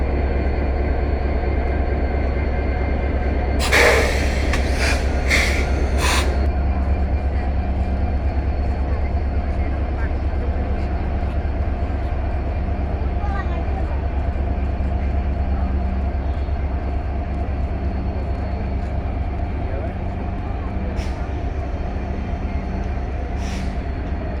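An intercity express train pulls out of Joydebpur station with a steady, heavy low rumble throughout. Brief sharper bursts rise near the start, and a faint higher whine comes later.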